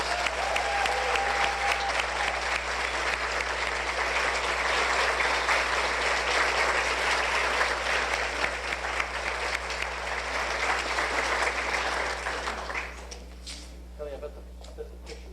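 Loud sustained applause from an audience at a community awards ceremony, honoring award winner Kelly Watts, with dense clapping that runs for several seconds before tapering off near the end.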